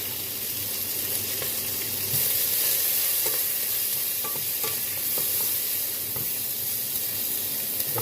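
Onions browning in a pan for a cabbage-and-sausage dish give off a steady, close hiss of frying that runs unbroken, with a few soft scrapes of stirring and no talking.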